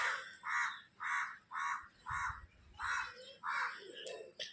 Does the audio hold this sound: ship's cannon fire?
no